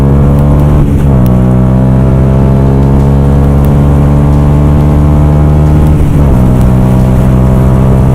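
A Yamaha YZF R125 motorcycle accelerates hard, its steady loud engine note climbing through the revs with two distinct gear-change dips along the way, sounding continuous and close with no voices.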